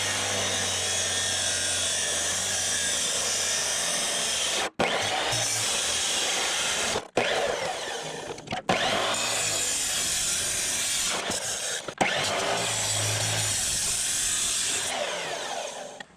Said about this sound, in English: So let's chop off these resonators and throw the rest away.